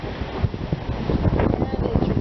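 Strong wind on the beach at Cedar Key buffets the microphone, a steady rumbling roar with gusty thumps throughout the short stretch.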